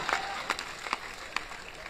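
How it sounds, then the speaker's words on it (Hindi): An audience at a comic Hindi poetry recital claps steadily, and the applause stays fairly quiet and diffuse with a few sharper claps standing out over low crowd murmur. "तालियां बजाइए"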